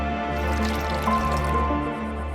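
Water trickling as it is poured into a drink, a soft dripping stream over a steady background hum.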